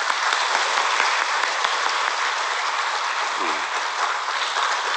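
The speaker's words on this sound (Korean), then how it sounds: "우리 목사님께 박수 한번 드리겠습니다." A church congregation in Korea applauds with steady, dense clapping that stays even throughout, fairly loud and filling the room, with no one speaking over it.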